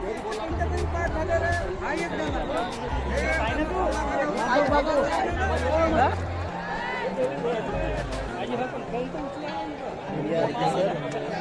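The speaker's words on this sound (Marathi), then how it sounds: "बघू शकता किती खतरनाक गर्दी झालेली आहे" Dense crowd chatter from a large gathering at a village festival in rural Maharashtra, a steady loud hubbub of many overlapping voices with no single voice standing out.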